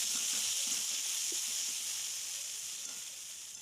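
Figs frying in a pan with sugar, a steady close sizzle and hiss that holds for a few seconds and eases slightly toward the end, with no voices.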